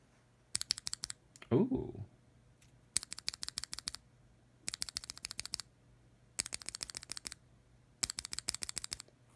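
A Gateron Merlot keyboard switch is pressed repeatedly in five quick bursts of sharp, close clicky taps separated by short pauses, with a brief exclamation from a voice early on.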